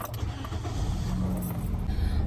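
Car keys jangling as someone gets ready to drive home, a soft continuous metallic rattle over low background rumble, close by with no talking.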